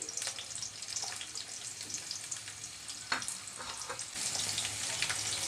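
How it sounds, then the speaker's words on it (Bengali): One large chopped onion and four or five cloves of chopped garlic hit hot oil with a bright, crackling sizzle that runs steadily and swells louder near the end, with no speech. "তেল গরম করে নিয়েছি দিয়ে দিচ্ছি একটা বড় সাইজের পেঁয়াজ কুচি আর দিচ্ছি চার পাঁচ কোষ রসুন কুচি"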